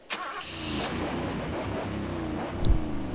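A video game car engine idles steadily with a low rumble, then briefly revs louder near the end.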